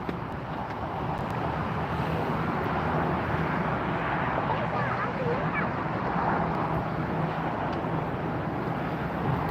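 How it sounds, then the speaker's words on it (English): An Austrian Airlines A380 airliner taxiing at LAX, a broad, steady jet roar heard from a distance that fills the whole stretch with little change. "A380 Austrian Airlines is going to roll right through there and then come in and park."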